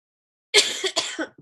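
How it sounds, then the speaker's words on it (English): A person coughs several times in quick succession, close and dry, with short bursts clustered together after a brief silence. "I'm sorry with my coughing."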